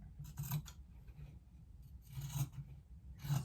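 Scissors cut out quilt fabric in three short bursts of crisp snipping, each a quick run of blade closes, with quiet gaps between, close but soft, and no voices.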